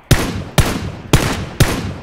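Four loud, evenly spaced gunshots in PUBG Battlegrounds, about half a second apart, each sharp crack followed by a short reverberant tail, with no voices.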